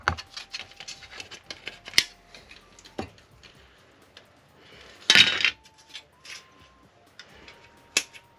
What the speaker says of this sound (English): So I'm just going to use my snippy snips.